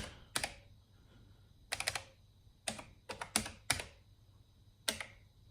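Someone types a command on an Amstrad CPC464 keyboard, producing sharp, close clacks in short bursts. Single key presses and quick clusters are separated by quiet pauses, and no one speaks.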